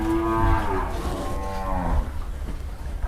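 A native Thai cow lets out a loud, close moo, a long harmonic low, then a second shorter call after a brief pause, with no voices over it.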